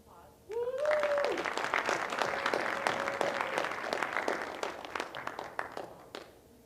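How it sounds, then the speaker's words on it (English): Audience applause at a military community college graduation ceremony, rising after a brief tone and continuing as a dense, moderately loud clatter of clapping before tapering off at the end. "let's give them a round of applause"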